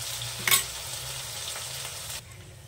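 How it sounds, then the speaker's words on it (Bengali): Paste of ginger, garlic, cumin, green chilli and onion frying in a pan, a steady close sizzle with a brief louder stir burst early on, then the hiss drops off abruptly near the end. "এই মশলাটাকে আমি সুন্দর করে কষে নেব।"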